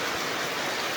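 Afternoon rain falling as a steady, even hiss of dense broadband patter, close and continuous, with no voices.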